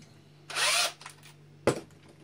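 A Wolfcraft step drill bit bores a hole in a short, loud burst of about half a second, followed by a brief second whirr and a sharp clack.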